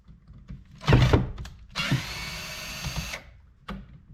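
Power drill backing screws out of the bottom plate of a pond pump, close short whirring bursts separated by pauses.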